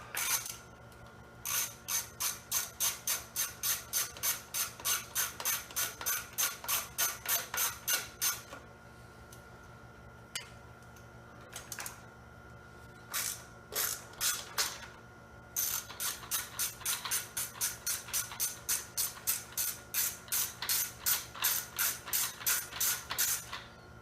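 A hand ratchet backs 10mm nuts off the air cleaner of a Kawasaki 580V engine, with close, crisp runs of rapid clicking strokes, brief pauses between bursts and no voices.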